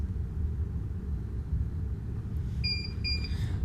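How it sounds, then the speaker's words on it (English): An IdentyTech fingerprint reader rejects an invalid credential with a double beep: two short, clean electronic tones heard near the end over a low steady rumble. "On the device, I'm going to get a double beep"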